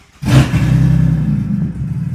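A naturally aspirated Barra engine with its straight-piped exhaust snapped from the headers and dangling revs up suddenly, then holds a loud, deep, rough rumble right up close.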